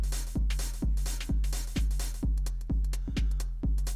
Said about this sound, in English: This is the typical 909 hi-hat, you know, which I took there.